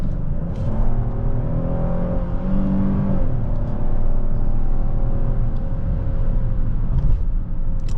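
A 2026 Hyundai Palisade Calligraphy accelerates hard from about 20 mph, its engine a steady loud rumble and whir that climbs in pitch as it holds second gear, heard close from inside the cabin with no talk.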